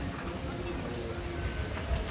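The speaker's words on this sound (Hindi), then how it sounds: "देखें बारिश तकड़ी आ गई है" Heavy rain pours down in a steady, dense hiss that fills the whole stretch, with faint spattering on the ground below.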